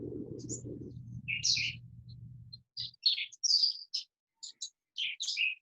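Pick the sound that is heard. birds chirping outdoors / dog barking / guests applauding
birds chirping outdoors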